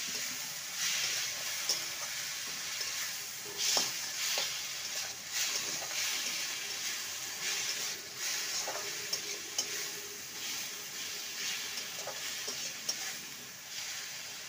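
Grated, washed and drained potato fries in a pan for a semolina breakfast while a spatula stirs it, a soft steady sizzle with light scraping taps throughout, fairly quiet and close, no voices.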